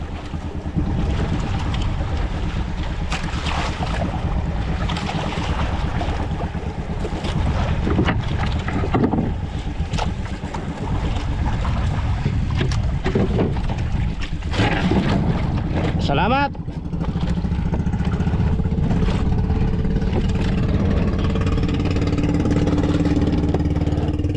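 A fishing boat engine drones continuously at sea off the Philippine Rise, over wind buffeting the microphone, with rushing water around it and occasional voices underneath.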